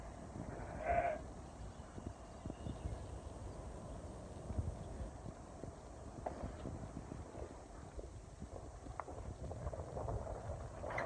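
A single sheep bleat rings out early over gusty wind noise, followed by scattered faint thumps and rustling outdoors as sheep are let out of a pen.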